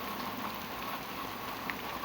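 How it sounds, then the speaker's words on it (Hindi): Steady, dense night rainfall pours down without pause, a continuous hiss of heavy rain striking surfaces close by. "बारिश कितनी तेज़ है, देखिए पूरी बौछार इतनी तेज़ है कि जैसे बारिश की लड़ियाँ सी बन गई हैं।"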